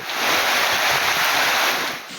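Rough Bay of Bengal surf pounds the shore at Kuakata in stormy, rainy weather, a loud, continuous roaring wash of waves with wind noise and no voices.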